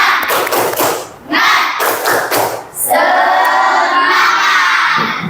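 Schoolchildren in a classroom perform a rhythmic spirit clap, sharp bursts of claps and thumps close by, followed by loud shouted group chanting from the class.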